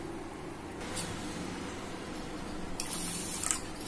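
Water is poured into a cup of sugar to make syrup for bread gulab jamun, a faint, quiet trickling stream with a few brief splashy bursts.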